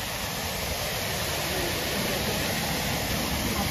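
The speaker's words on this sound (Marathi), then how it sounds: "तुम्ही पाहू शकता धबधबा कसा आहे इथे." Waterfall at Ambernath MIDC, a steady broadband rush of falling water, continuous and fairly even in level, with no voices.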